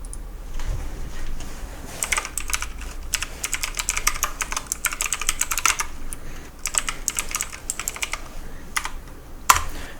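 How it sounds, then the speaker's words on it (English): Rapid keystrokes on a computer keyboard, bursts of quick clicks with short pauses between, close and clear, a heavier key thump near the end. "I know you all can tell what I'm typing via the sound of my keystrokes."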